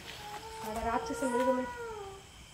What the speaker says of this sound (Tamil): ஏதோ மூடில் கத்துது பூனை